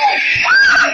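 Several people scream together in a sustained, high-pitched burst at close range, loud and continuous with no break.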